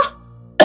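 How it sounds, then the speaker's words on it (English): A sick character in a children's bedtime story coughs: a short, close rasp, a brief pause, then a second harsh burst. "Oh, this cough."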